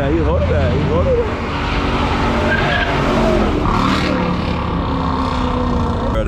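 A car does a burnout at a packed takeover car meet in the Bronx, New York City, its engine revving hard while tires skid and squeal loudly and continuously, with crowd voices mixed into the roar.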